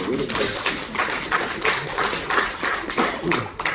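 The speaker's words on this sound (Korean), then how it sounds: "박수 한번 칩시다" An audience claps at a Korean forestry administration society's winter academic conference, giving a scattered, irregular burst of applause with a voice talking over it.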